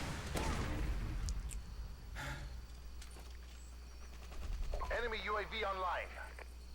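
Gunfire and RPG blasts from the video game Modern Warfare 2, with several sharp loud shots and bursts early on, then scattered fainter reports while a voice speaks near the end.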